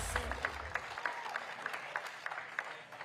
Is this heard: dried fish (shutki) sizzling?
no